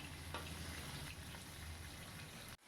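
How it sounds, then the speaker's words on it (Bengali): Pieces of gurjali fish fry in hot oil, a dense continuous sizzle and crackle held steady at close range before cutting off abruptly near the end. "বাদ বাকি দুটো ভাজা হতে থাক"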